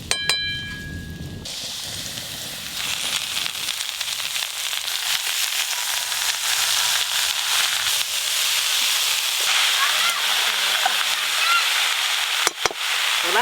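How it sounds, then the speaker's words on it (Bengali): Potatoes with fenugreek greens fry on a clay stove, with a steady loud sizzle and hiss that stays constant and close. A few clatters of utensils come at the start and a sharp knock near the end. "এবার মেথি শাকটা দিয়ে দেবো।"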